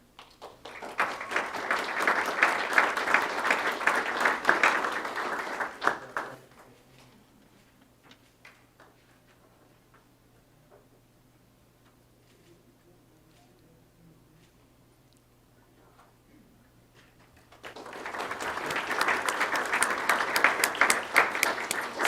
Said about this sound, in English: Let's give them one last round of applause for these accomplishments.